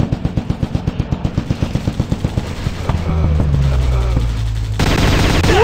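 Rapid automatic gunfire in the Commando Stake Battle video game, a loud steady stream of sharp shots for about three seconds, then a dense sustained roar of fire and rumble.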